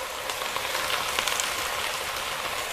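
Fish sauce drizzled around the edge of a hot pan of cabbage, giving a steady, dense sizzle and crackle of frying that holds near and even throughout, with no talking.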